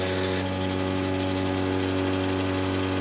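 A treadmill motor driving a drill press at 6,400 RPM, a loud, steady mechanical whir with a strong constant hum throughout.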